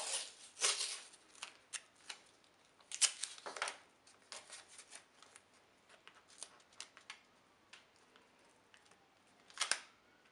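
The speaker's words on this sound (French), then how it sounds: "je vais mettre un bout de scotch ici" Scattered crackling and ripping bursts of tape being pulled and pressed down, irregular and fairly quiet, with pauses between.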